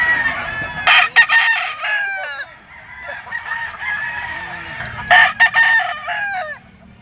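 A Sweater bloodline stag rooster crows and clucks close by in a two-bout pattern, with softer calls between the bursts and nearby clucking.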